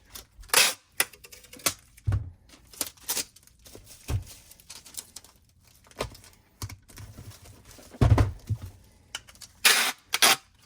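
Packing tape pulled and pressed onto a cardboard shipping box, heard as sharp irregular rips and taps in bursts, close and fairly loud with quiet gaps between.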